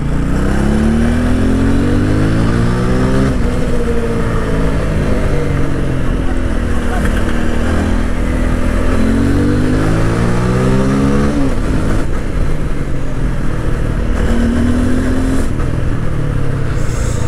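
Motorcycle engine revving hard during a ride, a loud continuous drone with repeated rising and falling pitch sweeps as the throttle is worked, wind rushing throughout.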